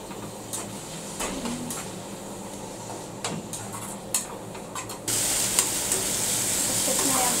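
Tomato amti frying in a pan with a continuous sizzle and scattered stirring clicks; partway through the hiss turns brighter and louder.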